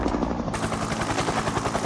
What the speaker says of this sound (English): Sir, the cheetah helicopter is approaching us, sir.